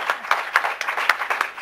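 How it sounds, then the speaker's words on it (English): Audience at an evening gathering clapping to welcome a newcomer, a brief steady patter of hand claps with regular sharp hits, fairly close and alone with no talk. "Give her a clap."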